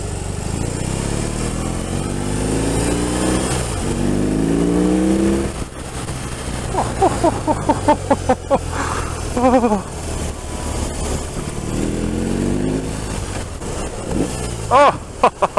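Cruiser motorcycle, a Harley-Davidson Street Bob 114 or BMW R18, accelerating as the throttle is opened, a deep rumbling engine note climbing in pitch with bursts of throttle, close and loud, with a voice speaking over parts of it.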